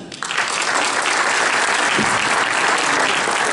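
Strong, sustained applause from an audience welcoming children at a traditional breakfast event, rising quickly and holding at a full, even level with no speech.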